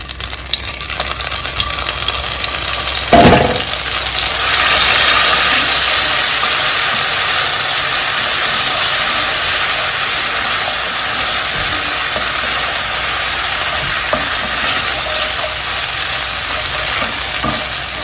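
Dawadawa frying in shea butter in a pot, a steady, loud hiss of sizzling fat that flares up with a sharp burst as the ingredient goes in, then settles into continuous crackling with occasional stirring knocks.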